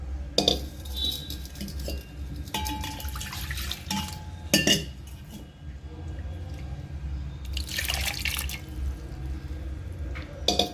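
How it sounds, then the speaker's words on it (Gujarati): Water poured into a mixer jar holding deseeded bael fruit pulp while making bael sharbat, with splashing and dripping among clinking utensil and dish knocks, and a longer pouring burst near the end. "એમાં સાથે સાથે પાણી પણ આ રીતે નાખી દેશું"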